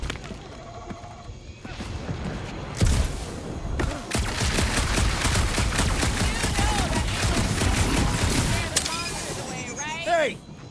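Dense gunfire in the video game Marvel's Guardians of the Galaxy: a sustained, loud fusillade of rapid shots and impacts, with voices talking over parts of the battle.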